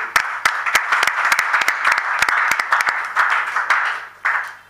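Crowd applauding guests at a political campaign launch, dense and loud clapping with sharp individual claps standing out, continuous throughout and dipping briefly near the end.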